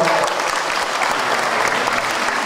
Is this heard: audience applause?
yes